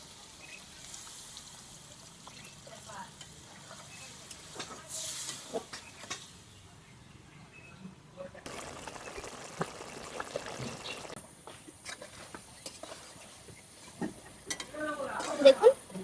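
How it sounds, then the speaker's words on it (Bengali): A little water is added to vegetables frying in a pan for a prawn, jackfruit seed and elephant foot yam stalk curry, and a soft hiss and sizzle swells midway over faint stirring and kitchen clatter, with a quiet voice in the background. "এখন জল দিয়ে দেবো একদম অল্প করে দেখুন"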